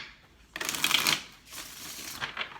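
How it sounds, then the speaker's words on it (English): Tarot cards are shuffled close up in two quick riffling bursts, crisp papery flutters with a short pause between. "One more shuffle."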